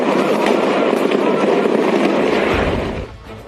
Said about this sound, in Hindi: टीवी स्क्रीन पर जिस घर को उड़ाने का वीडियो आप देख रहे हैं